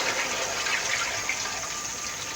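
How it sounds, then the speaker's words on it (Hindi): Water pours steadily from a jug into moong dal gravy simmering in a pan after the spices have released their ghee, making a continuous close gushing splash with no talk. "अब हम इसमें पानी डाल देंगे।"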